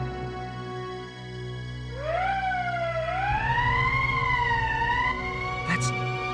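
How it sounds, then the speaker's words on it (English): An emergency siren from the video game Valkyria Chronicles rises and wails in a steady, loud, sweeping tone over a low game-music bed, with a short click near the end. "That's the emergency siren."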